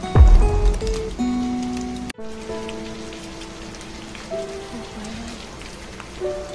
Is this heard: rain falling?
yes